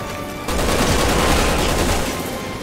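A sustained, dense burst of gunfire in Resident Evil 6 during Chris and Piers Nivans' chapter, including sniper fire. It starts abruptly after a brief quieter moment and stays loud and continuous.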